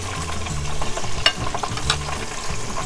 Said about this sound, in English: So it's frying very slowly